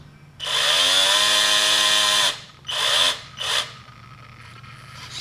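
Small outboard motor on a 1972 RC Challenger model boat running in reverse: a high, buzzing whine that holds steady for about two seconds, then two shorter revving bursts before it cuts out.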